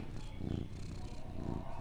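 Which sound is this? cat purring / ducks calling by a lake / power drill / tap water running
cat purring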